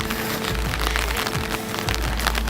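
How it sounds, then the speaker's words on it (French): Rain falls steadily on surfaces in the old sake quarter of Kyoto, a dense, close patter that stays loud and continuous with no voices. "Donc vous voyez, il pleut, il n'y a personne."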